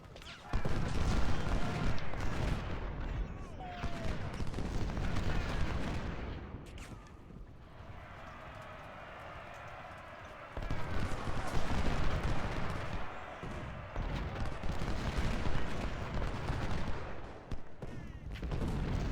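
Gunboats pound away in a Potomac Fort battle from a realism mod, with dense, continuous gunfire and heavy booming shots rolling over each other for nearly the whole stretch, briefly thinning in the middle before surging again.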